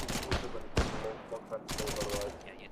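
Gunfire in the ArmA military game crackles in quick bursts, distant volleys and a sharper near shot, with a voice talking over the firefight.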